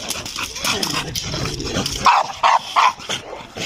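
Several dogs at a keeper's place for tame wild animals bark in a few sharp, loud bursts near the end, after a stretch of mixed background noise and voices.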